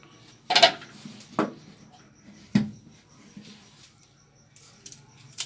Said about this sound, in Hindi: और अब हम गाजरों को इस तरीके से 2-2 टुकड़े कर लेंगे।